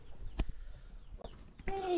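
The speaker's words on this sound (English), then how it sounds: "Yes, I have chicken here." Chickens kept around an African family home cluck and squawk in short, brief bursts, with one louder harmonic call near the end over a background of shuffling and outdoor noise.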